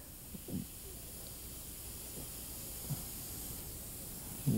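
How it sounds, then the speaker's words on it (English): An airbrush sprays fine practice lines onto cardboard for cake decorating, giving a faint, steady hiss throughout with a few soft knocks. "See how I'm keeping the airbrush close to the surface?"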